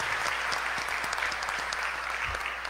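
A church congregation applauds during Sunday Mass, a steady mid-level wash of clapping with a few sharper individual claps standing out, heard on its own.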